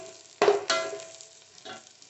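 Curry leaves and green chillies hit hot oil in a pan for vermicelli khichdi, giving two sharp sizzling bursts close up, then a quieter crackle and one more brief sizzle.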